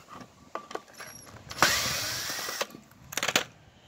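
Screws driven with a power drill, a short whirring burst near the start, a longer sustained whine in the middle, and a final cluster of quick whirs, with small clicks and handling noises between.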